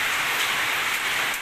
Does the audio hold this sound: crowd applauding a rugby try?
no